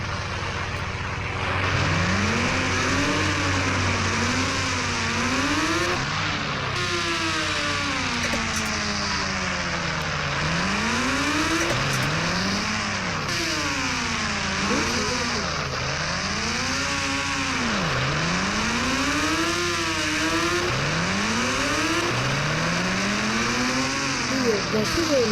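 A motorbike engine in a video game revs continuously, pitch rising and falling in repeated swoops as it accelerates and shifts, loud and close throughout with a steady droning undertone.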